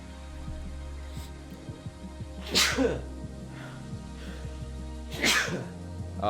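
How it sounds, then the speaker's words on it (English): Two sharp human sneezes, a few seconds apart, burst out loudly over a quiet bed of game music during a Paradise Killer stream. "Great way to end the series on a couple of sneezes that I forgot to mute myself for."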